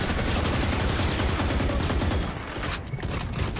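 Rapid gunfire in a first-person shooter game, a dense continuous burst of loud overlapping shots that thins out briefly near the end before resuming.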